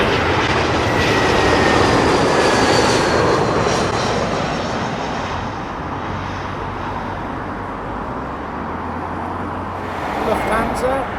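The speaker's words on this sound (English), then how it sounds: "British Airways A320 coming in from Vienna." A British Airways Airbus A320 arriving from Vienna lands at London Heathrow, its engine roar loud and steady before gradually easing, with a voice speaking over it.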